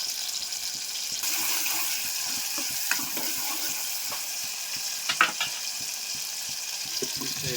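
Chopped onions sizzle and crackle steadily as tempering in hot oil in a pan, with scattered louder pops and a few clinks of a utensil stirring, no voices.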